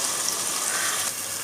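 Half a cup of water poured into a hot pan of chickpea and bean gravy with tomato, giving a close, steady hiss and sizzle-like splash that runs without pause and eases slightly toward the end.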